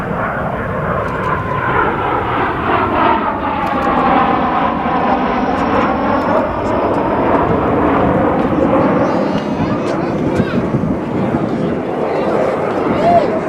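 Steady roar of an aircraft engine running continuously at close range, loud and droning, with a faint whine rising and falling over it.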